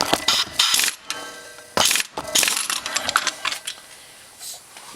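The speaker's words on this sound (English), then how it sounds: "I'm just going to hit it with this impact pretty good bit." An air impact wrench tightens a part during a gear reduction install on a 2021 Honda Rubicon 520, firing several short, loud, rattling bursts separated by brief pauses, with no talking.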